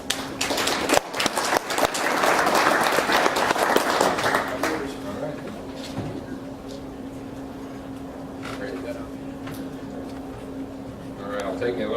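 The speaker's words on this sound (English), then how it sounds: "there we give him a round of applause" An audience gives a round of applause to a speaker at a commercial energy efficiency talk. The sound is a burst of many-handed clapping for a few seconds, then it fades to a quiet room with scattered taps and a steady hum.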